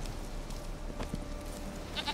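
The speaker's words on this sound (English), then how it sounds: "Here, goat." Goat bleating in the game Witcher 3, a couple of faint, short bleats near the end over a steady ambient background, with no speech.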